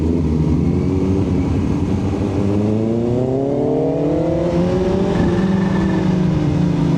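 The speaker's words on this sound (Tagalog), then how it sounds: "Kotse." A car passes close by while heard from a riding motorcycle, a Kawasaki Z H2, as loud engine and road drone rises and falls in pitch over the steady roar of the bike.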